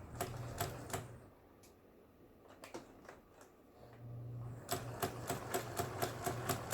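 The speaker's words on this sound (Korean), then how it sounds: "바느질 패턴을 지그재그 바느질에 맞췄습니다." A Janome household sewing machine, newly repaired, runs a zigzag stitch in two bursts of rapid, even needle clatter with a low motor hum, separated by a quieter pause with a few isolated clicks.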